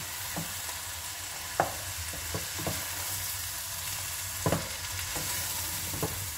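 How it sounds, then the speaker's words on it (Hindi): Oil sizzles and crackles steadily in a pan as fenugreek leaves fry over medium-high heat for aloo methi, with a few sharp clinks of a spoon stirring, close up and no talking. "मेथी हमने डाल दी और इसके साथ आँच जो है वो मीडियम हाई कर दी।"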